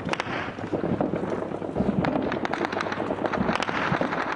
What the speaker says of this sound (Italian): Quelli che sentite sono gli spari dello scontro a fuoco andato avanti per ore tra talebani e forze di sicurezza